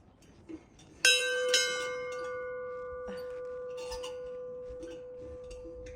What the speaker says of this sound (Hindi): तो एक बार ये घंटा तो बजा ले।